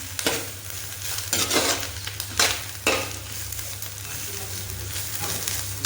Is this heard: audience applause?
no